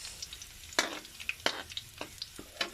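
Garlic frying in a pan while being stirred, a soft sizzle punctuated by sharp scraping spoon strokes against the pan at an uneven rhythm, close and fairly quiet.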